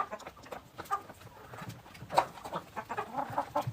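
Hens cluck and chatter steadily while pecking at feed, several birds close by with irregular soft calls and one sharper squawk midway, no talking.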